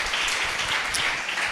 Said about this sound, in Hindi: दोनों के लिए ताली बजाए